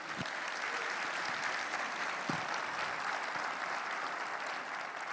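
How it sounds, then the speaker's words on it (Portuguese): A congregation applauds steadily in church at a Christian community service, a dense, continuous wash of clapping throughout, with no voices standing out. "vamos dar um aplauso ao Senhor Jesus?"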